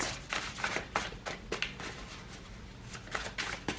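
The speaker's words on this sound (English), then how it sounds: "This deck is a little bit hard to shuffle because it's homemade." A homemade tarot card deck is shuffled by hand in a run of quick riffling bursts and soft card slaps, close and fairly loud, repeating irregularly with no talk.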